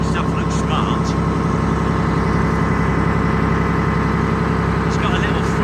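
An M113 armoured personnel carrier's engine idles in a steady, loud, continuous low rumble with a throbbing rhythm and some vibration, close by and unbroken throughout.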